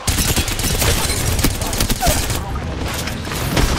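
Gunfire hits a player during an Apex Legends match: loud, dense bursts of rapid shots crackle throughout, with a brief lull near the end.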